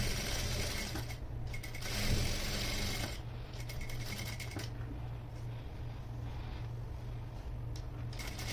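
A sewing machine works on an anarkali frock with a low steady mechanical hum and intermittent clicking of its gears and mechanism, faint and close, and no one speaks.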